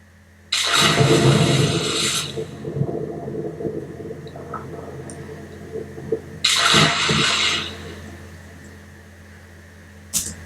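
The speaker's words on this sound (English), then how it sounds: "And there's some bubbles here. Underwater splash." Two bursts of rushing, bubbling water like underwater splashes, muffled and full, separated by a low churning rumble.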